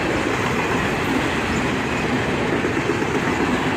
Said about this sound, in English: An auto rack train, led by an AC-44 CW.